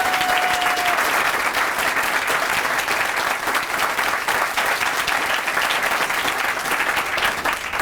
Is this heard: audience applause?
yes